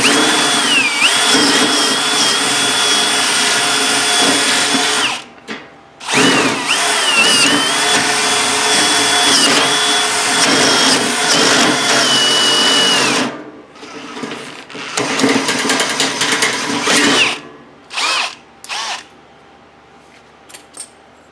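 An electric drill driving a metal cutting shear attachment whines loudly and steadily in long runs, cutting out briefly around the middle and again near the end, then a few short bursts as it stops and restarts.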